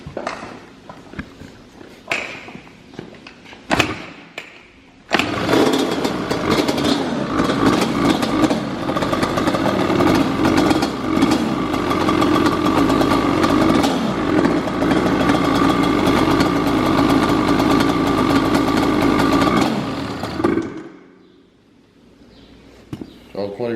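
A Yamaha Banshee ATV engine is kick-started with a few sharp kicks, then catches and runs at a steady, loud, buzzing high-revving two-stroke drone for about fifteen seconds before cutting off, with people talking faintly nearby.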